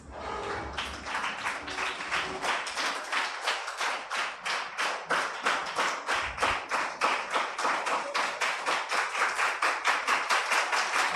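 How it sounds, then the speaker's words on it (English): A standing audience at a Radical New Bar press and public engagement event claps in a strong, rhythmic unison beat, loud and regular, sustained for over ten seconds without talk. "give him a standing ovation"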